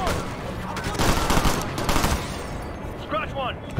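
Rapid bursts of gunfire from Tom Clancy's Ghost Recon: Future Soldier crackle loudly through the first half and then trail off, with a brief electronic chirp near the end.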